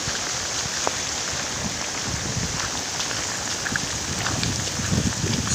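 Heavy rain pours steadily during typhoon Lingling flooding in Komsomolsk-on-Amur, a dense, continuous hiss with scattered drop impacts, loud and close throughout.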